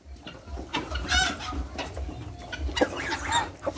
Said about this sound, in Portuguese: Ó o galinho aí fazendo a festa.